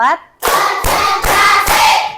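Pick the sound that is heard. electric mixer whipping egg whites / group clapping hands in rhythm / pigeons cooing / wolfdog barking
group clapping hands in rhythm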